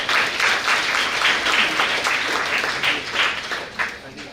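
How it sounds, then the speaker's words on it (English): A crowd at a CodeRally 6.0 tech workshop gives sustained, even applause, a dense wash of many hands clapping with faint voices mixed in. "Let's give a big round of applause for all our partners"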